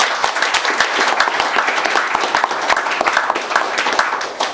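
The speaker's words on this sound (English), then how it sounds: "if we can just give them a round of applause," An audience at a talk on big data gives a round of applause, a dense, steady wash of many hands clapping close by, holding an even level for several seconds with no voices over it.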